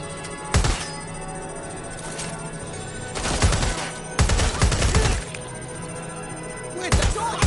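Gunfire in Watch Dogs Legion comes in sharp, loud bursts: a quick volley near the start, then heavier rattling clusters in the middle and another burst at the end, with quieter ambience between.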